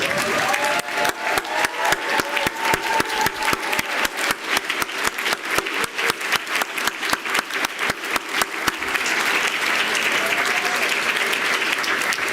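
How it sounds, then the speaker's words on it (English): A large audience claps steadily through a graduation recognition ceremony, honouring the graduates' supporters. The applause is dense and sustained from start to finish, with rapid overlapping claps that thin slightly near the end. "May I ask our graduates to stand and give a big round of applause"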